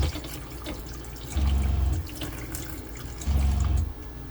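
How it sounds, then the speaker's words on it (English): A filtered-water tap in a box van runs in two brief bursts, each with a low pump hum, over a quiet hiss of trickling water. "And there's the filtered water."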